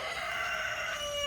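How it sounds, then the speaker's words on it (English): A rooster crows close by in one sustained, strained, high-pitched call that lasts the whole moment, with no talking. "Oh, sorry, it's a rooster."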